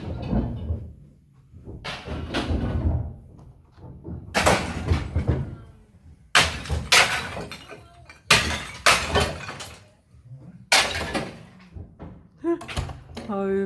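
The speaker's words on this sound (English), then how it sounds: "they're actually taking all the tiles off our roof today and re-roofing it" Loud clattering crashes and scraping bursts of roof tiles being knocked loose and dropped during re-roofing, recurring irregularly, with a voice talking in between.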